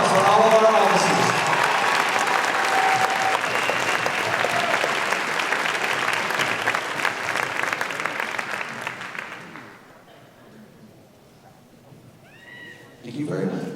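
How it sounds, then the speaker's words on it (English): Sustained loud applause from a concert audience at a high school band spring concert, cheering for the band officers, fading after about ten seconds before a voice speaks. "How about a really big round of applause for all of our officers?"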